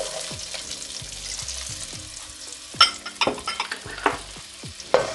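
Onions fry in a pot, a continuous sizzle broken by repeated scraping stirs and a few sharper clanks of utensil against metal, close and without speech.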